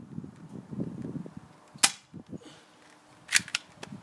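A Ha112 BB gun fires two sharp, loud cracks about a second and a half apart. Quieter mechanical clicks and handling noises come before and after the shots.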